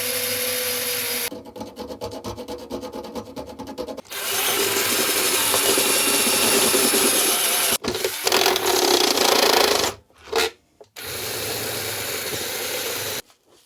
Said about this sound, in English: For these buttons, I'm going to go with a step drill.